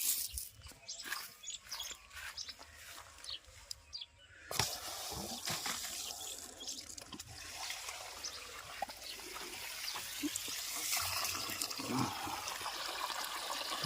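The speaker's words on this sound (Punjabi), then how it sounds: "ਪਹਿਲਾਂ ਆਪਾਂ ਪਾਣੀ ਛੱਡ ਦਈਏ" Water runs steadily from a pipe or tap to irrigate a bed of eggplant plants, a continuous splashing trickle that swells after a brief lull and stays fairly close throughout, with no talk.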